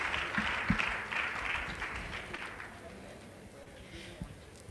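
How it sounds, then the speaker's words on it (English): Applause from a conference audience at an Africa-focused event, moderately loud at first and thinning gradually over a few seconds, with some scattered voices mixed in. "Please, a round of applause."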